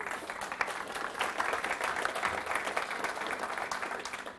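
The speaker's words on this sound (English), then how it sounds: "You're applauding, so thank you very much for that" Audience applause at a Barcamp talk, a steady dense patter of many hands clapping throughout, fairly close and sustained without voices over it.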